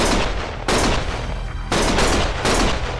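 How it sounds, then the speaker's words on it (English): Heavy, sustained gunfire from the action game Lost Judgment: loud, continuous shooting with several sharp bursts punching in, close and dense, with no talking over it. "Stop shooting!"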